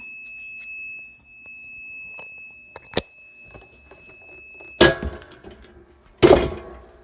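A couple of sharp electronic beeps from a heat press timer ring out against a quiet background, followed by two loud thunks of the press being handled.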